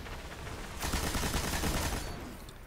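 Rapid automatic machine gun fire in the first-person shooter Destiny, a dense burst of shots lasting over a second, loud and close, with no talk over it.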